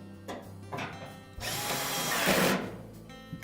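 Power drill driving screws into a Whirlpool dryer panel during a repair, short buzzing whirs followed by a longer sustained drive, fairly close and moderately loud, with no voices.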